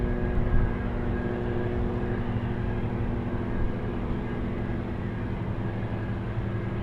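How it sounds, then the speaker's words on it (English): A fully loaded airliner takes off from runway 33 at Anchorage's Ted Stevens International Airport, a loud, steady low engine roar sustained throughout with no talk over it. "Jeez Louise, that one almost using the entire length of runway 33. Fully loaded takeoff on that one."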